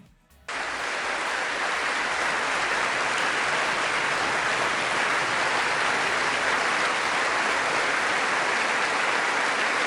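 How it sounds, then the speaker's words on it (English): A standing audience in a congressional gallery bursts into sustained applause after a brief quiet start, a dense, loud wash of clapping that holds steady to the end. "Look at all of these ghouls that are standing and applauding these blatant lies and propaganda."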